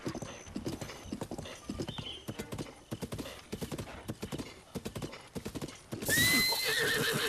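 A horse in Breath of the Wild gallops with a quick, rhythmic clip-clop of hooves, then lets out a loud, close neigh near the end.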